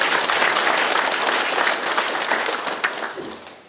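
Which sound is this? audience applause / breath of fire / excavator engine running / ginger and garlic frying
audience applause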